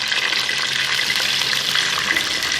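Chicken hits hot oil spiced with cloves in a pot, producing a loud, dense, continuous sizzle and crackle heard up close with no pauses.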